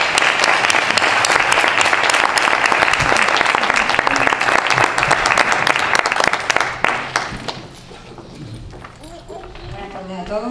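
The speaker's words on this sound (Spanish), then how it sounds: "un aplauso fuerte para Pedro." Loud, dense audience applause at a literary reading tribute, sustained for about seven seconds before thinning out and fading into quieter room noise.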